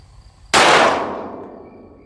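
A single loud shot from a Laugo Alien pistol, sharp onset then a decaying ring and echo over about a second and a half, alone with no talk.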